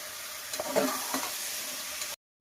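Chopped bottle gourd and other vegetables sizzle in oil as a spatula stirs them, a close, steady hiss with a few scraping strokes before a brief cut to silence.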